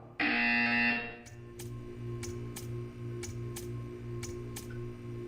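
In Portal 2, a loud electronic buzzer blares for about a second, then gives way to a steady ticking, evenly spaced clicks over a low machine hum.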